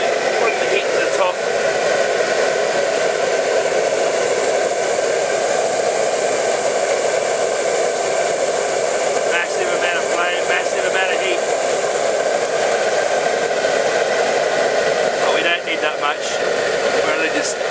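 Brewing burner roaring steadily beneath a cut-down stainless steel pot on a home brew day, a loud continuous rushing blast that holds an even level throughout.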